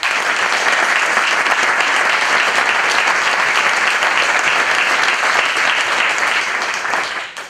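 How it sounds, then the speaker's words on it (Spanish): An audience at a Navarrese jota contest, the III Certamen de Jota Navarra in Villa de Marcilla, applauds loudly and steadily for several seconds before the clapping tapers off at the end. "¡Fuerte el aplauso!"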